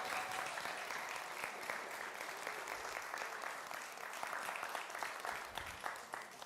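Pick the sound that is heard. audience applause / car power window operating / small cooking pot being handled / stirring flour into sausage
audience applause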